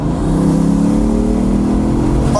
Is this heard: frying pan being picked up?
no